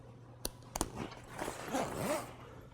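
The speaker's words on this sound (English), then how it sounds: "and just zip it part way." A zipper on a pontoon bimini top boot is drawn part way closed, with a couple of sharp clicks as it starts and then a steady, close rasping pull that rises and falls.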